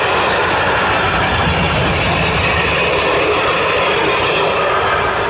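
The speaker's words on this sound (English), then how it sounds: "Oh, train's going past." A train passing close by gives a loud, steady roar that fills the whole stretch without letting up, with no talk over it.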